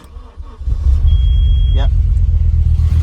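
A classic car engine cranking and catching, then settling into a loud, steady low idle rumble up close, with a brief squeal as it fires; someone speaks briefly at the start.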